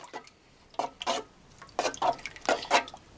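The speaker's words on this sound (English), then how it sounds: "and we'll stir them up." Intermittent watery sloshing and splashing bursts, close by, as coyote brains are stirred with a stick in a container of warm water for hair-on hide tanning, with quiet gaps between strokes.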